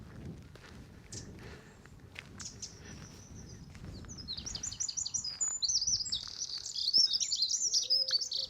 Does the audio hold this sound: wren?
yes